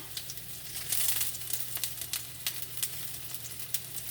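Garlic sizzles softly in a hot pan while tofu General Tao is cooked, a quiet, steady crackle with small spitting pops.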